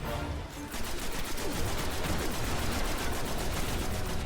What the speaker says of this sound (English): So making full advantage of cover and just shooting him as much as possible.